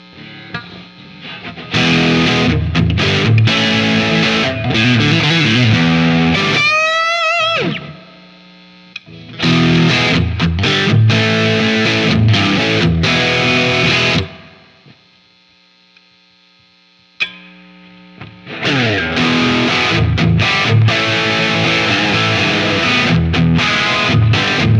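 A Fender Telecaster electric guitar plays loud distorted chords and riffs in bursts, with a quick bent-note run and short pauses where amplifier hum lingers.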